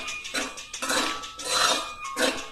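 Matta rice biryani with mushrooms being stirred in a pot, a spoon scraping and clinking against the metal in several bursts of varying loudness, fairly close with no voices.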